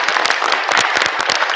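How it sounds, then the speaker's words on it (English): Audience at a high school National Honor Society induction ceremony bursts into a short, loud round of applause, with dense, close clapping throughout. "I want to give her a round of applause."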